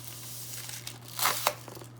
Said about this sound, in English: Go ahead and cut it open on the sides here.